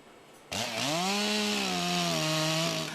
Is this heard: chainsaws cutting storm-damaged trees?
yes